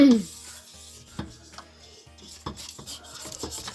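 A spatula scrapes frosting off the sides of a cake in short, rasping strokes, close and fairly quiet, with soft taps between passes.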